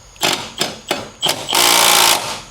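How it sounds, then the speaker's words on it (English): Impact wrench on a bolt of a Ford Mustang S550 suspension during a wheel hop fix, four short loud rattling bursts followed by one longer sustained rattling run, close up. "So this last bolt right here, I'm gonna take it off."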